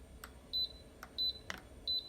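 An Instant Pot beeps as its saute button is pressed: three short, clear electronic beeps at an even pace over a quiet, low background hum.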